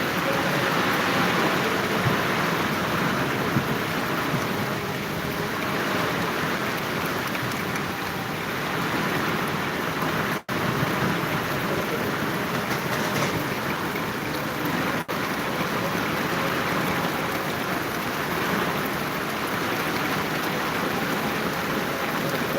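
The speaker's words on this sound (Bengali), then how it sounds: "চলছে প্রচণ্ড বৃষ্টি" Heavy rain pours steadily during a Kalbaishakhi storm in Dhaka, a loud, dense, unbroken roar of falling water with a couple of brief sharp cracks and no voices.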